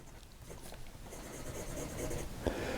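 A Delta fountain pen nib glides across paper with a faint, soft scratching and rustle, quiet and close, with a few small ticks of contact along the stroke.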